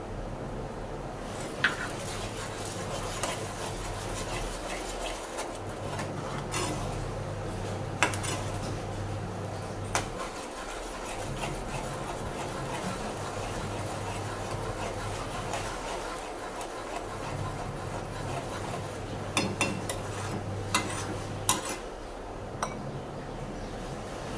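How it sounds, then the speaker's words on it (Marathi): Butter paneer gravy with added butter and salt boils steadily in a pan, giving a continuous bubbling, crackling hiss with a low hum that swells and fades in regular cycles; no one speaks. "हे आपलं आता उकळत आहे, व्यवस्थित उकळी आली."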